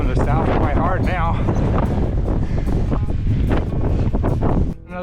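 Strong southerly wind on a mountain ridge at Frary Peak on Antelope Island, Great Salt Lake, Utah, roaring steadily and buffeting the microphone loud and close almost throughout, with a voice speaking under the gusts.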